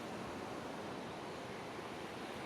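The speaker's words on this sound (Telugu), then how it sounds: "ఇది బాపట్ల హరిత బీచ్ అండి" Ocean waves wash steadily at Bapatla Haritha beach, a continuous broadband roar of surf with some wind, close and loud, with no voices.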